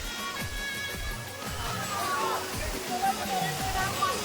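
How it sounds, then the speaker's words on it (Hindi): Chingrapagar waterfall in Gariyaband pours down from above as a steady broad rush of falling water, with someone talking over it. "देख सकते हो कितना मस्त झरना ऊपर से गिरा थे"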